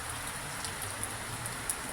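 Morning rain falls on a backyard, filling a pool, as a steady, soft hiss with a few faint drip ticks scattered through it.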